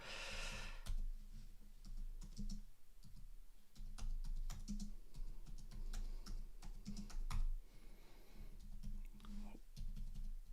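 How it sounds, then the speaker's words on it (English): Typing on a new computer keyboard, close and quiet, with irregular bursts of key clicks and clacks, soft breathing and a faint whisper-like murmur between keystrokes. "I'm just typing this out and I can't type and talk properly, especially with a new keyboard"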